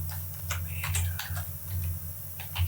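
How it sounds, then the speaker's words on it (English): Typing on a computer keyboard indoors, a short run of close, light key clicks in an uneven rhythm over a low background hum, with no talking. "So we're going to type"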